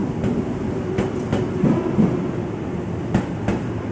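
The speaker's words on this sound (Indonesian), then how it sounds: "kereta api Cikuray melanjutkan perjalanan sampai ke Pasar Senen" Cikuray economy passenger train bound for Pasar Senen, heard up close from onboard or beside the track: a loud steady rumble with repeated clickety-clack of wheels over rail joints.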